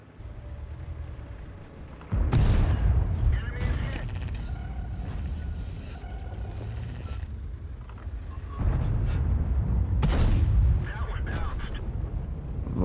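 Tank cannon fire in World of Tanks, aimed at an E100: two loud, heavy booms roughly six seconds apart, each trailing into a rumbling decay over a continuous game background.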